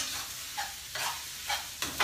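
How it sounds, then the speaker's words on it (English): Spatula pressing and stirring seasoned rice in a hot frying pan with mangoes, carrots and Asian pork sausage, giving a steady sizzle broken by four short scraping mashes at even intervals, close and fairly quiet. "I'm gonna mash up all the pieces because we don't want any rice that is not seasoned."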